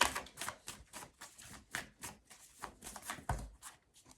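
A deck of tarot cards shuffled by hand, a quiet run of rapid riffling flicks and taps close by, then a card drawn with a soft slap.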